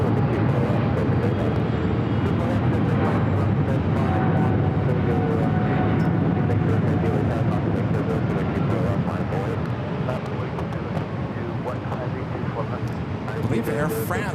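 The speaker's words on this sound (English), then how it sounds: "Air France just went around on the south side. You guys could hear it, but I never saw it." An Air France airliner going around at LAX on the south side: a steady, distant jet roar that holds for about fourteen seconds, with muffled voices underneath.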